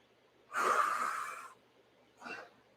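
A person exhales forcefully during an exercise move, one long breathy rush of air followed by a shorter, softer breath out, close and alone.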